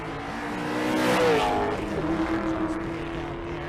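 At a drag-and-drive event, a Fox Body Mustang and a BMW race down the strip, engines swelling to a loud, revving roar as they pass and then fading into the distance.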